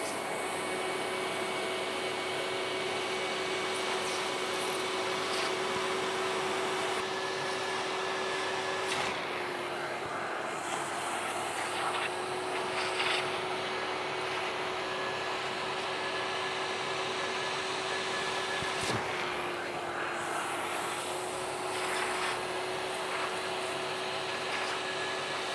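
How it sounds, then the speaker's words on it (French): A carpet shampooer extractor sucks water out of a mattress with a loud, steady motor drone and airflow hiss, broken by brief bumps as the nozzle presses and moves. "pour bien aspirer un maximum d'eau"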